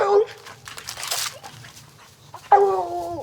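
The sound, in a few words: hunting dogs barking at a treed mountain lion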